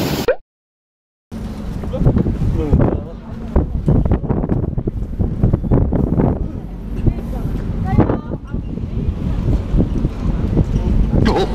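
Strong gusting wind at the seaside on Marado island, buffeting the microphone in heavy rumbling bursts after a brief silence, with a voice talking over it.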